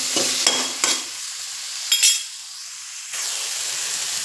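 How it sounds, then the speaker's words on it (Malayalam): Onion, green chilli and tomato are sautéed in a pan for a chickpea curry, with a few quick spatula stirs and scrapes over a steady, close sizzle of frying. "എന്നിട്ട് ഇതൊന്ന് വഴറ്റിയെടുക്കാം"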